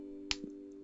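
One sharp, faint pat or snap against a quiet hum, followed by a softer dull thud, made as a voice-free imitation of a one-handed clap.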